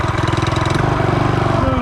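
A Coleman CT200U minibike with a torque converter runs at a steady, fairly loud putter, its single-cylinder pulses close and even throughout.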